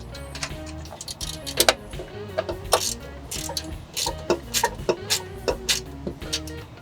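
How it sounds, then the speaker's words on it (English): A socket wrench and Allen key tightening bolts on a Mercedes Sprinter B-pillar mount: irregular close ratcheting clicks and metallic ticks in short bursts, louder toward the end, with faint background noise. "now I'm going to use my M10 socket wrench and my M4 Allen key to tighten down the bolts"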